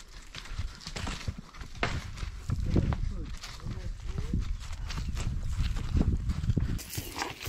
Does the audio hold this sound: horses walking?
yes